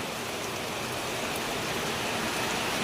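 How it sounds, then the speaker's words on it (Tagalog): Dense, steady hiss of heavy rain pouring down, loud and unbroken throughout with no voices. "Pinabayan na ng malakas na ulan, oh."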